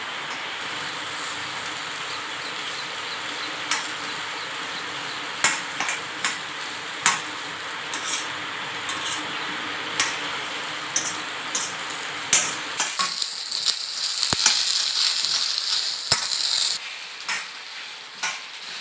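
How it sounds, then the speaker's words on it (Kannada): Okra frying and being stirred in a pan at home, a steady close sizzle with scattered sharp clicks of a spatula scraping the pan, the sizzle brightening and getting louder near the end. "ಈಗ ಬೆಂಡೆಕಾಯಿಯನ್ನು ಚೆನ್ನಾಗಿ ಫ್ರೈ ಮಾಡಬೇಕು"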